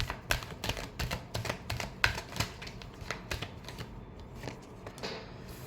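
Tarot cards being shuffled by hand in a rapid run of crisp, close riffling clicks that taper off toward the end, with no talking.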